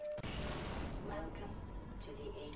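Sustained burst of heavy gunfire aimed at glowing crystals during the Nihilanth boss fight in Half-Life, loud and dense with booming weapon blasts, continuous throughout.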